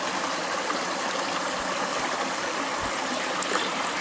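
A creek flows steadily with a continuous rushing, trickling wash of water close by, unbroken for the whole stretch and with no voices over it.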